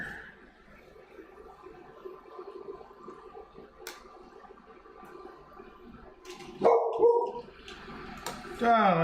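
A dog barks in a couple of short bursts near the end, fairly close, over a background of running water and low kitchen noise.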